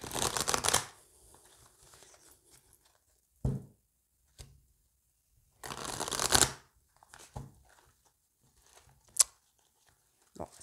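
Oracle cards being shuffled by hand, several separate crisp riffling bursts with quiet gaps between them, close and fairly faint.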